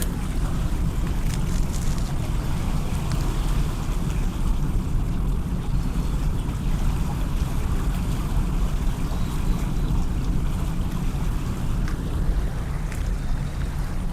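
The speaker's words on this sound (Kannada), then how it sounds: "ನಾಯ್ಸ್ ಕ್ಯಾನ್ಸಲೇಷನ್ ಆಫ್ ಮಾಡಿದ್ದೀನಿ. ನೀರು ಸೌಂಡ್ ಕೇಳಿಸ್ಕೊಳ್ಳಿ." Steady rushing water with constant wind noise at the shore, unbroken and fairly loud throughout, with no voices.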